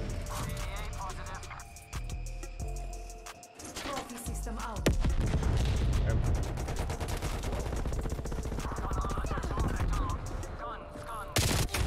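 Machine gun fire rattles in rapid bursts in a Call of Duty match with a DMR 14 setup, mixed with other game sounds, while a player talks over the action.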